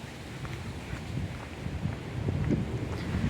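Steady wind rushes and buffets the microphone outdoors in a country park in Hong Kong, a low rumbling roar that swells slightly toward the end, with no voices.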